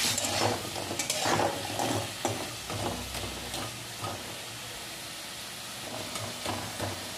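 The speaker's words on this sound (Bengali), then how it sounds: "হলুদ গুঁড়ো দিয়ে আলুটা ভালোভাবে ভেজে নিতে হবে।" Potatoes with turmeric powder fry in oil with a steady sizzle, broken by scraping stirs and clinks from a utensil in the pan.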